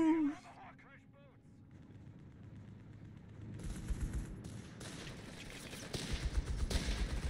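Scattered gunfire in the Company of Heroes 3 strategy game, a 2v2 match, building from sparse shots into denser bursts with explosions toward the end, heard at a distance under a low battle ambience.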